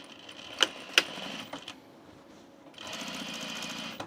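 A sewing machine stitches the vent of an unlined auburn blazer, running in a short close burst of rapid needle clatter after a couple of sharp knocks and a quiet pause.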